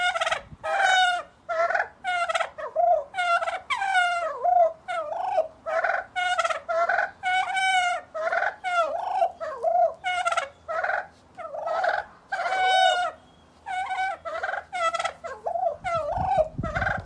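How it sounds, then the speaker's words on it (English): A group of turkeys gobble over and over in loud, close, rapid bursts, one call after another with short gaps between them and no voices. "What do you think these turkeys are talking about?"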